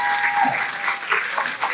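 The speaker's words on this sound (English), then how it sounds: "let's stand to give a round of applause for an amazing day." Audience applause at an agent training event, a dense burst of clapping heard close, with a faint voice underneath.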